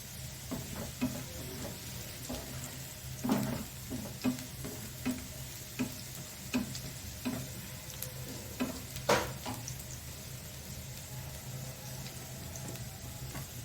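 Chopped onion frying gently in a pan until just pinkish, a soft steady sizzle with light rhythmic stirring taps and scrapes spaced through the stretch, fairly quiet and close.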